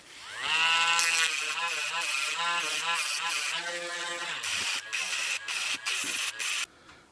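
A rotary tool with a small grinding wheel refines the metal of a die-cast Hot Wheels car, a loud high whine with wavering pitch, then a run of short choppy bursts as the wheel touches and lifts off.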